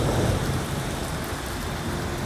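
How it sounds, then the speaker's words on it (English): Steady heavy rain pours down at the Blue Water Bridge in Michigan, a dense continuous hiss and patter filling the whole stretch at close range with no voices. "I'm not sure about this rain"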